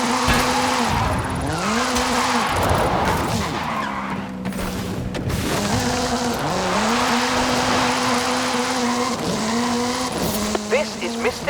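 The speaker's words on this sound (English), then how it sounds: "This is Mr. Kenneth Block's Hoonigan Gymkhana 10 Ford Focus RS RX." Ken Block's Hoonigan Gymkhana 10 Ford Focus RS RX, a 2-litre turbocharged all-wheel-drive car, drifting with loud sustained tire squeals that rise and fall as the engine revs, close and continuous, with a brief clatter near the end.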